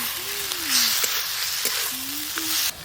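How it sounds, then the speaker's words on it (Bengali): Potatoes and cauliflower sautéing with spices in a pan give a steady, close sizzle and frying hiss, broken by a few soft clicks as the food is stirred. "মশলার সঙ্গে আলু আর ফুলকপি একটু ভালো করে কষে নেব।"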